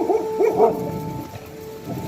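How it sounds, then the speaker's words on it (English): Dogs barking nearby during trap dyeing and waxing, a quick cluster of three or four sharp barks followed by quieter whimpering sounds. "sorry about my dogs."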